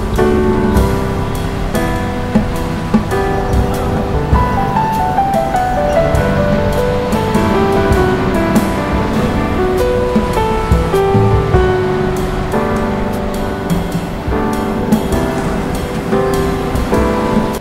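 Ocean surf rolling in at a Chennai beach during heavy rains, with dark, debris-laden river water flowing into the sea; a steady, loud, continuous roar of crashing waves with no speech.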